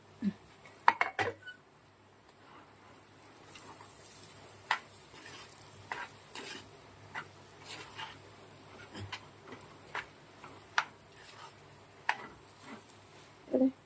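Ingredients for sukhiyan are mixed together in a pot with a faint background sizzle and scattered clinks and scrapes of a spoon against metal, irregular and close, with no talking.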